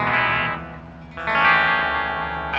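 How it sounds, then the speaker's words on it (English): Electric guitar played through a chorus modulator effect, giving a warbling, shimmering tone. It rings alone for a couple of seconds, dipping slightly in the middle before swelling louder again. "Now you gotta try chorus modulator in there."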